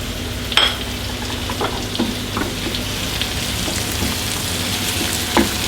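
Tomatoes and peppers sizzle steadily in butter in a pan, a constant bright frying hiss with a few soft clinks and stirring scrapes on top, close up and with no talking.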